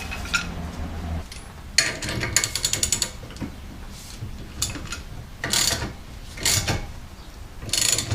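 Steel clamp pressing a universal joint into a 2nd-gen Dodge Ram 2500 Cummins driveshaft yoke, giving close, faint creaks, clicks and metallic ratcheting scrapes in irregular bursts, with no talking.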